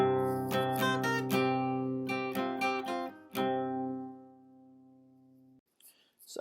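Electric guitar plays the main riff of a song, with muted strings in the chords: rhythmic strummed chord stabs and a ringing sustained chord that fades into near silence, then a faint rustle at the end.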